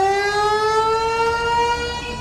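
An air raid siren sounding a public warning across Pakistan during a night of alert, one long sustained wailing tone with steady harmonics held loud and unbroken throughout.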